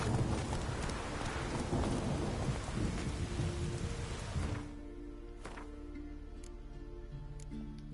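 Hoofbeats of Roach, the horse in The Witcher 3, galloping through a thunderstorm, with rain and rumbling thunder over them for about four and a half seconds before the loud clatter drops to quieter rain and softer steps.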